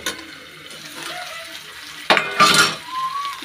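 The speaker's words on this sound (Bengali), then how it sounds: "একটু করে আলু ভাজা করে দিচ্ছি," Potatoes frying in a pan with black cumin seeds, soft sizzling with clattering pan and utensil sounds and a louder burst of stirring midway, close by in a home kitchen.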